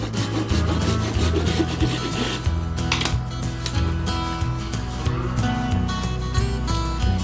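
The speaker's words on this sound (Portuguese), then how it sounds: "Para o caule, eu vou usar a canela em pau." A small saw rasps back and forth through a cinnamon stick, a loud, continuous scraping rhythm of quick strokes close up, with no talk.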